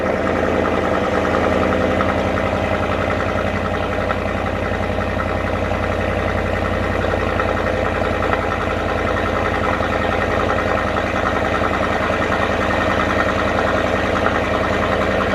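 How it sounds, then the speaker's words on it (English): A Ford F250 truck engine idles steadily with a deep, rumbling exhaust, loud and close, a constant low drone throughout with no talking. "I'll start it so you guys get to hear the chorus of the exhaust"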